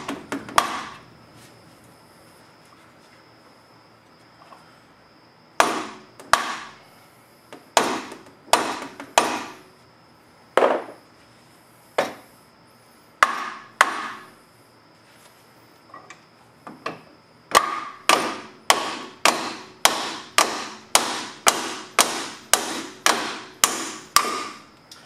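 A screwdriver used as a drift is struck with sharp metallic taps while working on a car strut during a shock replacement. Scattered single hits at first, then a quick regular run of close, loud blows.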